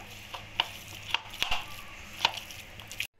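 Boiled potatoes being mashed in a vessel give a quiet run of soft, irregular knocks and taps, close by, spaced roughly half a second apart, with no talking.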